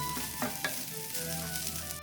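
Tofu fried rice with egg and green onions stirred in a pan over lowered heat, a steady soft sizzle broken by a few scraping strokes of the spatula.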